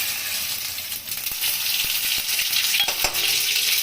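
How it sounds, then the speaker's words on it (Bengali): Mustard seeds, bay leaf and radhuni hit hot oil for a Bengali shukto, producing a bright, close sizzle with several distinct pops and crackles scattered through the steady frying hiss. "তেল গরম হয়ে গেছে, সরষা আর হলো গিয়ে তেজপাতা আর রাঁধুনিটা ফোড়ন দিব"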